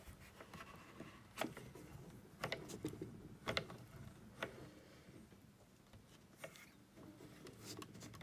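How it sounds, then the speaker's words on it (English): Small mini die cut and emboss machine being cranked with a cut 3 by 3 inch paper square, giving soft irregular mechanical clicks and ticks with quiet gear rattle, faint and close. "make sure that it would fit into the mini die cut and emboss machine"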